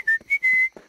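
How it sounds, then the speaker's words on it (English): Someone whistles a few clear, high sustained notes in a quick sequence, with short breaths between them, close and fairly loud. "Yes, I can whistle."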